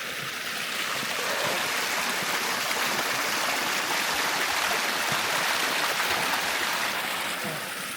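Cold mountain water rushes steadily near Ushuaia, Argentina, a close, even and continuous splashing roar with no voices over it.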